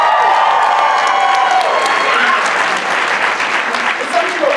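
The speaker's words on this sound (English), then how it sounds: "Give a round of applause for Edgar." A panel audience breaks into loud, sustained applause with some cheering, a dense wash of clapping that fills the room from start to finish.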